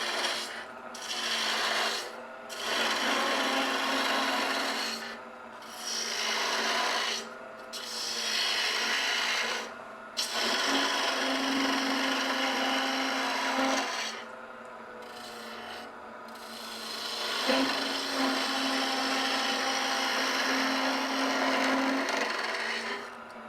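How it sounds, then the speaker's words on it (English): A spindle gouge cuts into a small wooden Christmas tree spinning on a lathe, giving a raspy scraping in repeated bursts with short quiet gaps, close and moderately loud. "Now I'll take my spindle gouge and we'll start cutting this off."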